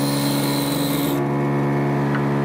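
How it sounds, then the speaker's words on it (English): A cutoff tool marking wood on a spinning woodturning lathe gives a steady, close rasping scrape over the lathe's constant hum, with the bright upper scrape stopping abruptly midway while the motor drone carries on. "Just to mark it with a"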